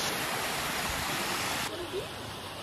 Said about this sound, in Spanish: Aquí está la otra parte de la cascada.